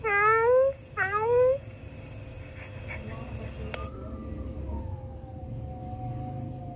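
A cat meows twice in quick succession, close and fairly loud, reacting to a walkie-talkie, followed by a steady electronic tone and a faint rising whine under low background hum.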